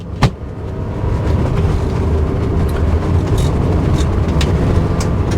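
A 1986 Mercedes 560SL out on a test drive gives a steady, close engine and road rumble that holds evenly throughout, with one brief thump right at the start and no talking.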